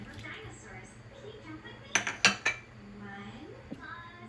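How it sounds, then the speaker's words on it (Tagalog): Chunks of taro are dropped into a pot of beef sinigang broth, giving a few quick clinks and knocks against the pot over a low kitchen hum, with faint voices in the background. "Lagay ko na po itong gabi"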